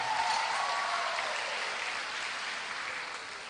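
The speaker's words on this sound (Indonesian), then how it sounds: "beri tepuk tangan yang meriah" Warm applause from a crowd at a national Christmas celebration, following a choir performance, a broad wash of clapping that slowly fades over a few seconds.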